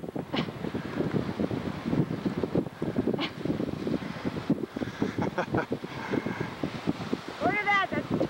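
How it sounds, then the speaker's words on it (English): Strong gusting wind on the bay side of a beach at Humarock, buffeting the microphone in rough bursts beneath voices chattering nearby. "Hey, the wind is blowing."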